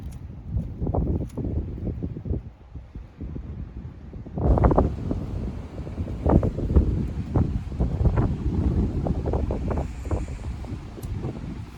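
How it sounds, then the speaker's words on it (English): Wind gusts against a camping tent, a steady broadband rush with rustling fabric that swells louder about halfway through and holds at a moderate level, with no talking. "My tent, on the other hand, does make some noise when the wind blows at it."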